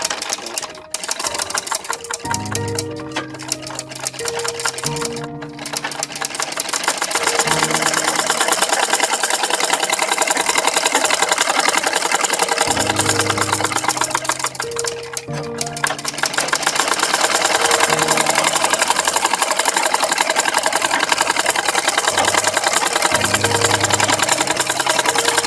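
Sewing machine stitching the elastic waistband of a baby skirt, a loud close continuous mechanical whir with fast rhythmic needle knocking, pausing briefly twice before running steadily on.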